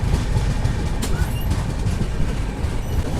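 Visakha Express running after leaving Nalgonda, a loud steady rumble of wheels on track with a dense low roar and faint rhythmic clacking, heard from inside the train.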